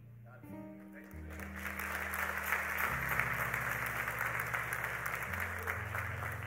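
A church congregation applauds steadily during an 11am Sunday service, a sustained wash of clapping that swells and holds while a low organ or keyboard chord progression plays underneath.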